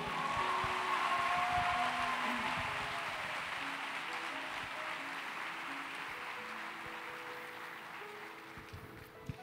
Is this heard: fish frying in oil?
no